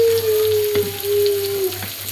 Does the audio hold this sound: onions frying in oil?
yes